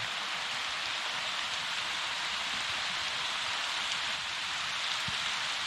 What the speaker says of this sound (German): Jetzt gibt's nochmal einen kleinen tropischen Regen.